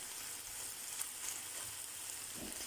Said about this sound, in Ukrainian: перевертаємо на іншу і жаримо, поки з іншої сторони теж вона підзолотиться